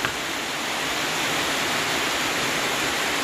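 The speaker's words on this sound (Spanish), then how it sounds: "Bien amarilla el agua que está cayendo, que está pasando ahí." Heavy storm rain pouring down with muddy yellow runoff rushing past, a dense, continuous hiss of falling and flowing water with no voices.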